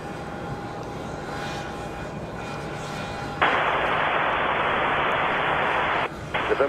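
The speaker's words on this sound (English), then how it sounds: "The arrival there in the background, American Airlines 1203 coming in from Buffalo, New York. An A321 at 200." An American Airlines Airbus A321 jet arriving at Charlotte Douglas airport on a windy day, its engine roar swelling suddenly to a loud, steady broadband rush that continues for several seconds before briefly dipping, over constant background wind.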